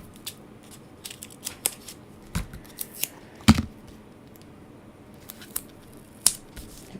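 Sharp, scattered snips of scissors, irregular and close, with quiet gaps between the cuts.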